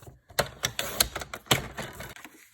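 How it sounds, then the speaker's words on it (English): Paper card being cut up for a Christmas card project, a series of sharp, close snipping crackles in quick irregular succession, loud and dry with no talking. "you're going to want to cut the card. I'm going to cut it up."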